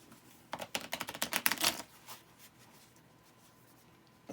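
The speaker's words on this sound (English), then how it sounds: "Let me shuffle these up." A quick flurry of crisp riffling clicks as a deck of cards is shuffled for a magic trick, lasting about a second and a half before fading into quiet room noise.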